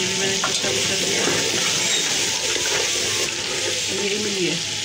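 Chicken coated in biryani masala fries in a pan, giving a dense, continuous sizzle with faint stirring scrapes, close and steady throughout.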